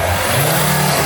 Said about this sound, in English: when I rev it, the revs go. They fly like this really quick